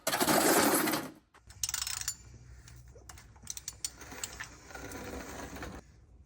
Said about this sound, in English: I'm going to take off the bolt, drain the oil, and then we will take off the oil filter.